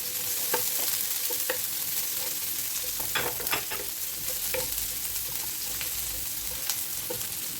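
Ginger and garlic sizzle steadily in hot oil in a pan for Ilocano pinapaitan, with occasional stirring clicks and scrapes over a continuous frying hiss and no speech.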